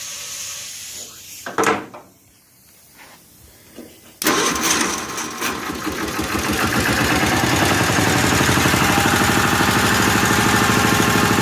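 A 1955 Cushman Truckster with fuel problems is cranked cold, stumbling through a few quiet attempts before catching loudly and settling into a steady, rapid-pulsing idle close by.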